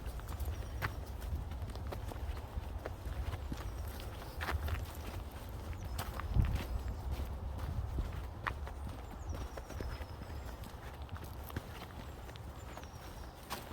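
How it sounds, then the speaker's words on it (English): Quick, steady footsteps crunch on a rough surface, a brisk walking pace heard up close, with faint outdoor background noise. "I'm walking quite fast"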